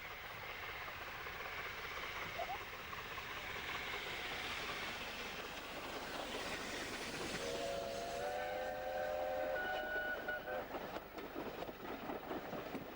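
Steam locomotive The Duke works a train on the Great Central Railway in 1986, its running rumble steady throughout, joined midway by a loud, sustained whistle blast lasting a few seconds.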